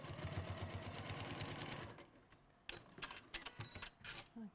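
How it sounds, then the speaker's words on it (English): A sewing machine runs in a steady, fast mechanical chatter as it stitches a seam along a solid marked line, stopping partway; afterwards come scattered clicks and light handling noises of the fabric and clips. "you're sewing along that solid line from one end to the other."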